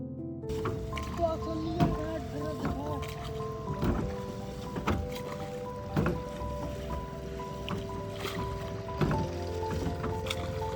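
A boat moves on the Ganga river at Bithoor with a steady low hum and faint water sounds, while people talk over it for most of the time.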